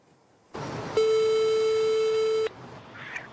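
A telephone line tone before a phone interview: a click of line noise, then a loud, steady, unbroken electronic tone lasting about one and a half seconds before cutting off abruptly.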